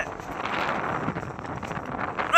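Strong wind from Cyclone Montha buffets the microphone in a loud, continuous rush, with a sharp burst of noise at the very end.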